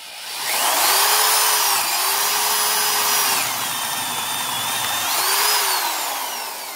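An older-style Bosch spade bit bores into wood, its drill motor whining loudly and steadily for several seconds, the pitch dipping and rising as the bit bites and frees, with no talking.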